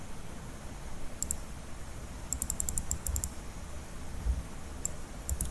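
Keys clicking on a computer keyboard in short bursts and quick runs of taps over a low background hum, with no voices.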